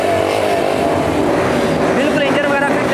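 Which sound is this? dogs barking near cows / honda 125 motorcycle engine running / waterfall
honda 125 motorcycle engine running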